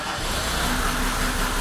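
A car engine runs steadily inside a garage, a loud, close, even mechanical drone over the whole short stretch.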